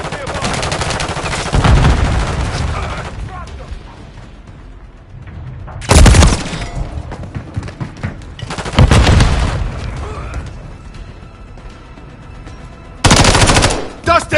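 Loud bursts of automatic gunfire in Call of Duty MW3, with heavy booming volleys at the start and in sharp separate bursts later, over continuous combat ambience with faint voices.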